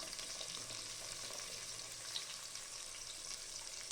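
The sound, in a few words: onion and garlic frying on low heat in a pan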